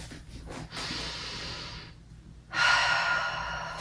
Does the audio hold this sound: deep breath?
yes